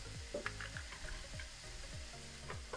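Shallot frying in a pan during a simmering cooking preparation, a quiet, steady sizzle broken by regular scraping strokes as it is stirred.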